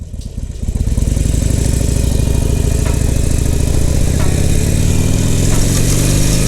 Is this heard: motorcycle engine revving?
yes